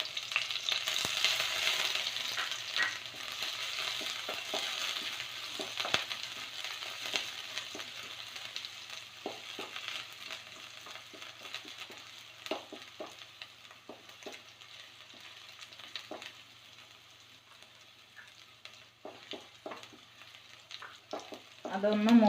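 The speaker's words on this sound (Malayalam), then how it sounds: "അതിലേക്ക് നമ്മൾ ഇഞ്ചിയും വെളുത്തുള്ളിയും പച്ചമുളകും ഇട്ട് കൊടുക്കാം." Ginger, garlic and green chillies frying in hot oil in a pan for a tender jackfruit cutlet, giving a soft steady sizzle with light stirring clicks and scrapes throughout.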